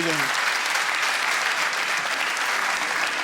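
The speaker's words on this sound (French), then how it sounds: "Allez-y, applaudissez." A comedy club audience bursts into dense, loud applause at a stand-up show, a continuous wash of clapping from start to finish after a brief voice at the very start.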